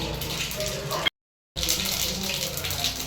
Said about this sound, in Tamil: இப்போது கடுகு போடுறோம்.